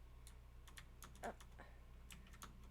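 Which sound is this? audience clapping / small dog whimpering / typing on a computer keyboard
typing on a computer keyboard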